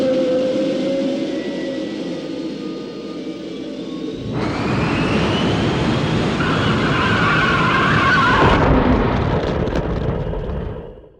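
Car crash scene from the film THX 1138: a loud, sustained roar of engine and rushing noise that swells partway through and holds steady before cutting off, with no voices.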